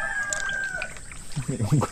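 A rooster crows near a flooded field, a drawn-out call under ambient noise, followed by a person talking close by.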